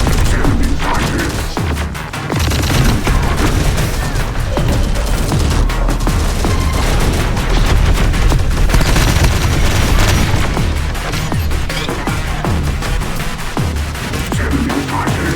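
Sustained gunfire in the video game Terminator: Dark Fate - Defiance, with dense overlapping automatic bursts, booms and crashes that continue without letup, loud and chaotic throughout.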